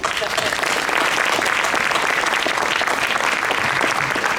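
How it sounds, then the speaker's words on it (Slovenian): Steady, dense applause from an audience at a Slovenian spoken-word event, loud and continuous throughout with no voices rising above it. "En aplavz za našo Matejo"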